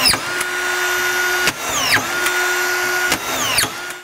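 A DeWalt DCF620 brushless collated screwdriver driving screws, its motor whining steadily and then dipping in pitch as each screw seats, with a sharp clack about every one and a half seconds across three cycles.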